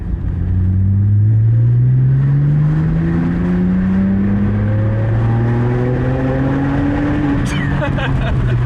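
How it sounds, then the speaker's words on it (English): A BMW E90 with an N52 engine and its mufflers deleted accelerates, a loud droning exhaust rising steadily in pitch through a gear, heard close while a person talks over it. "So this is the first drive with the mufflers absolutely chopped."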